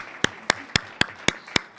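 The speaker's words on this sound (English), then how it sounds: "Yeah, big round of applause." A board of education work session audience claps in six sharp, evenly spaced bursts, each a loud crisp clap standing alone over quiet room tone.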